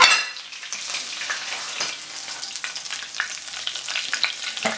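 Cornish sardines fry in a hot pan with a dense, crackling sizzle and scattered sharp pops, loudest at the start and then steady, heard up close with no voices.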